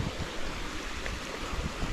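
Spring water gushing from a tapped PVC pipe, a steady, close, broadband rushing and splashing flow with no pauses and no speech.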